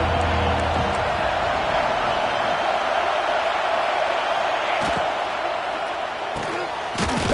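A football stadium crowd roars in a loud, steady wash of cheering that holds for several seconds, with occasional thuds breaking through.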